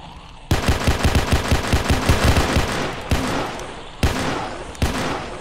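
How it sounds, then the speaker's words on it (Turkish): Rapid machine-gun fire in a realistic Roblox bodycam horror game: a long, loud automatic burst of closely spaced shots, then several separate single or short bursts, with no talking. "Öldürecekler, Ejder anamı sıkıyorlar!"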